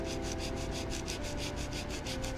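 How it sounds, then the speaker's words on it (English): Steady rhythmic rubbing of sandpaper on the edges of a wooden dresser, back-and-forth strokes at a quick even pace, close by with a constant hiss. "First I have to sand down all these little white edges"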